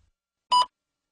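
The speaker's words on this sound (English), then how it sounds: "Please begin speaking after the beep." A single electronic test-prompt beep, a steady tone lasting about a fifth of a second, clean and moderately loud against silence before and after.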